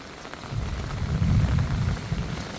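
Fresh rain comes down steadily at a rural home, with water running along the roadside, a dense patter over a low rumble that swells in the middle and stays close and even throughout.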